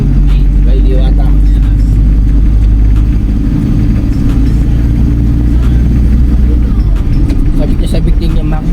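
The engine of a 17-year-old Kawasaki motorcycle runs with a loud, steady low rumble that persists throughout, while people talk nearby.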